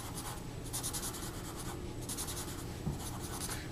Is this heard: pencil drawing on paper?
yes